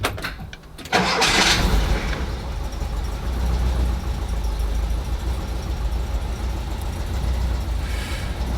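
A 1989 water-cooled Volkswagen T3 van engine cranks briefly, catches with a rising roar, then settles into a steady, low rumbling idle close by.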